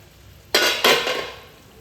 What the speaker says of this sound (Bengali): এই বেলে মাছটা দেওয়ার পর আমি বেশি নাড়াবো না, হালকা করে মিশিয়ে নেব।